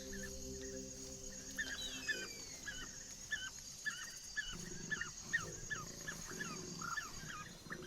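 A pack of African wild dogs in the Serengeti gives repeated high whimpers and yips in quick sequence, steady and moderately near, over a faint background of insects and low wind.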